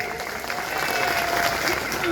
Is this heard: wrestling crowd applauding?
yes